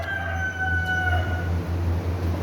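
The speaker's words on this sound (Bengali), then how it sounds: "এগুলো হচ্ছে আমেরিকান ব্রাহ্মা মোরগ" An American Brahma rooster, a heavy bird of about 6 to 7 kg, crows in one long drawn-out call over a steady low farmyard hum.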